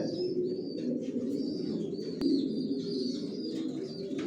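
Johnson line racer pigeons coo in a loft, soft low murmuring calls repeating continuously and close by, with a faint higher chirp above and one sharp click midway.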